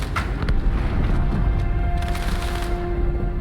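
A deep booming explosion rumbles through Halo 2, its low roar dense with crackling debris, loud and sustained for several seconds beneath a faint steady tone.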